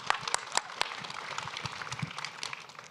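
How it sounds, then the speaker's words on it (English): Audience at a React conference panel clapping together, a dense burst of many hands close and fairly loud, with a few sharper individual claps standing out over the first second. "I personally think we should take a second to applaud the team"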